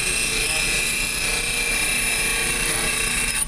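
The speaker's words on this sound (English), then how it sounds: "Now, we're going to put the finishing touches on the belt sander." A belt sander grinds and sharpens a lathe tool bit, giving off a loud, steady high-pitched whine with a broadband grinding hiss. It runs unbroken with no pauses and dips only briefly right at the end.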